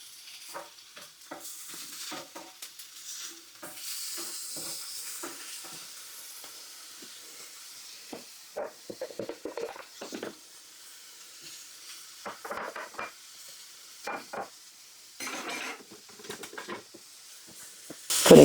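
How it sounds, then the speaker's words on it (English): Butter sizzling on a hot griddle, a faint, soft hiss broken by irregular crackles and clicks of utensils, close by and without talk. "Putting a little bit of butter on the griddle."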